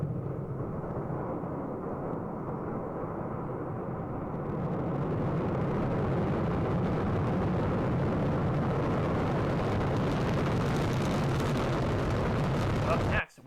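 Rocket launch from Launch Complex 3 at the Xichang Satellite Launch Center in China, a continuous deep roar that swells into a louder rumbling blast before cutting off abruptly at the end.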